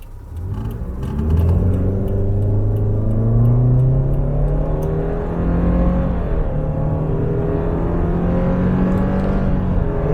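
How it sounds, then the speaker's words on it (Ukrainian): A petrol Subaru Forester with an FB25 engine accelerates hard from 30 to 160, its engine note rising steadily in a loud, continuous drone heard from inside the car, with no talking. "вона на бензині, і ми робимо розгін з 30 до 160"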